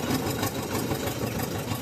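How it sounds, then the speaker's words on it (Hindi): A 1972 Zetor 2011 tractor engine idles steadily, a close, loud, rhythmic mechanical chug that continues evenly throughout with no talking. "ये जो ट्रैक्टर है हमारा G-Ter 2011, आप इसको देखते ही रहते हो वीडियो में। ये एक पुराना साथी है भाई, 1972 मॉडल ये ट्रैक्टर है"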